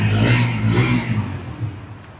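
A Bajaj CNG motorcycle engine revs twice in quick swells close by, then settles back into a lower, rougher running note.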